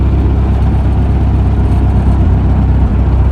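An old propane-powered tractor engine runs close by, a loud, steady low rumble that holds constant throughout with no pauses and no talking.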